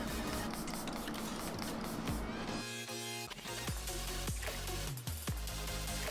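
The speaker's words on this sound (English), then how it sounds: "set it all with my Milani Make It Last finishing spray" A steady spray of Milani Make It Last makeup finishing spray hisses for a couple of seconds, followed by soft rubbing and handling sounds close by.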